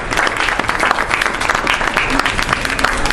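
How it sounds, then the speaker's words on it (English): An audience applauds at a book launch, with loud, dense, continuous clapping from a crowd that fills the room, sustained throughout with no pause. "A round of applause for her, everybody."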